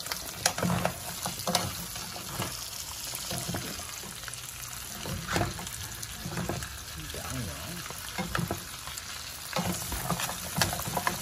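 Lobster stir-frying in garlic butter in a pan, a steady close sizzle with scraping stir strokes and occasional liquid pours, with no one talking over it.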